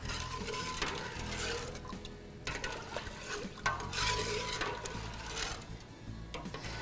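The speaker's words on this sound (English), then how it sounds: "You can add these to the mix and stir, and we're going to heat it just to boiling." A pickling spice mixture is stirred in a pot as it heats toward a boil, giving close, uneven scraping and swishing strokes with short pauses and no talking.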